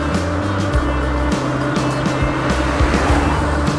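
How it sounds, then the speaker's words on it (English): A car passes on a country lane, its engine rising and falling close by as it goes past, heard over steady wind rush and road noise with no talk. "Oh my goodness, a car! Please don't hit me!"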